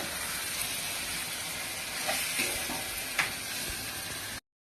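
Spice paste (masala) for Chettinad chicken curry sizzles in oil after long frying, a steady broad hiss with a few soft stir clicks and scrapes, close and even, no voices.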